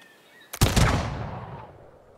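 Sudden burst of unit gunfire in Humankind, a sharp crack followed by a rattling volley that decays over about a second and a half, moderately close, no talk.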